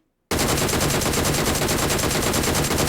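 Sustained automatic gunfire from the mobile battle royale PUBG Mobile, beginning abruptly after a brief silence and continuing as a loud, dense, rapid burst without pause.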